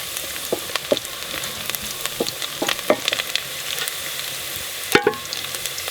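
Onions fry in oil in a pan in a Ugandan village kitchen, giving a steady close sizzle with scattered spoon-stirring clicks and one sharper clatter near the end. No voices.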